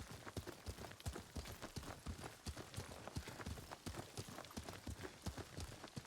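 Horse hoofbeats from Ghost of Tsushima while riding: a steady, quick clip-clop of galloping hooves, faint and continuous with no talk.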